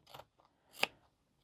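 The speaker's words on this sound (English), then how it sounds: "These are not my greatest scissors." Scissors cut fabric while a sewing pattern piece is trimmed out: two quiet, brief snips, the second sharper and crisper, close to the listener and with no talking.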